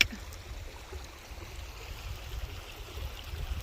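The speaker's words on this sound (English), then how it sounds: "We're at Ophir Creek." Ophir Creek flows beside the Tahoe Rim Trail as a steady, soft rush of water, faint and continuous with no voices over it.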